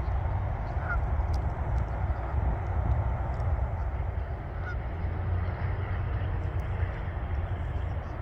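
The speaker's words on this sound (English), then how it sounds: "geese are notorious for being like a guard animal" Geese honk faintly and intermittently in the Martinez Town area of Albuquerque, their calls sitting under a steady outdoor background hiss.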